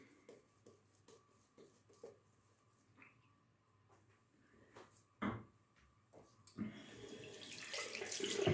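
Tap water running while shaving lather is prepared: soft clicks and handling taps at first, then the tap opens into a steady, growing hiss of running water over the last two seconds.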